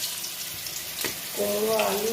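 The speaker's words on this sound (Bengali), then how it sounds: "কুমড়ো ভেজে নিচ্ছি" Pumpkin frying in mustard oil gives a steady, hissing sizzle throughout, with a faint voice briefly heard toward the end.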